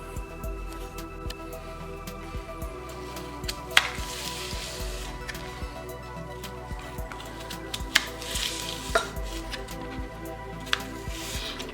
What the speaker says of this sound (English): So I'm going to chop up these apples and show you how it's done.